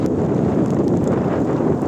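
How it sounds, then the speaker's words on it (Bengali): Gusty early-autumn wind sweeps across open wetland water, a constant loud rushing roar buffeting the microphone without pause. "বাতাস বইছে, আশ্বিনের হাওয়া"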